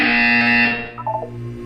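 A loud, harsh electronic buzzer in the video game Portal 2 sounds for under a second, then cuts off, followed by a few soft synthetic blips.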